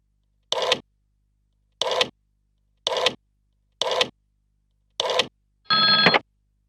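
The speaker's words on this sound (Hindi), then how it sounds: "अब अरुण को फोन करो।" A telephone rings in short rattling bursts about a second apart, five of them, followed by a longer, more tonal ring.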